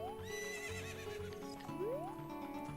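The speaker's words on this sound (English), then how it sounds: "For that, you need a horse. So summon Epona." Epona the horse neighs in the Zelda: Ocarina of Time video game, a loud whinny with a rising call near the end over steady game music.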